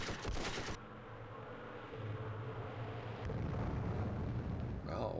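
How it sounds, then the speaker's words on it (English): Airstrike bombs go off in the Vietnam war game Campaign Series Vietnam, a continuous low rumbling roar of explosions that swells and sustains throughout, with a sharp burst at the start and another near the end. "Oh, finally, we have an airstrike."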